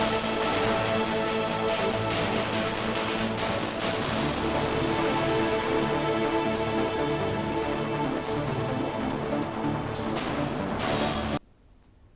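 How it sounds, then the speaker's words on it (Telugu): Heavy rain pours down in Vijayawada in a dense, continuous roar, steady throughout and loud, ending abruptly. "విజయవాడలో మరోసారి భారీ వర్షం కురిసింది."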